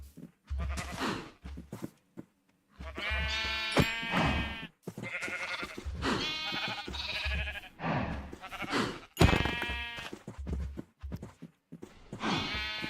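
Sheep bleat repeatedly in Minecraft, a run of wavering, nasal calls back to back with brief gaps, loud and close, with no talking over them.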